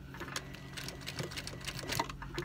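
A sewing machine runs steadily while stitching a shirt sleeve back along a spot where the stitching had come undone, a close, continuous mechanical whirr with light rapid ticking throughout.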